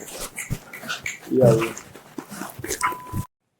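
Small dogs whimpering and yipping briefly under a voice, with a short high whine in the middle and a steady tone just before the sound cuts off.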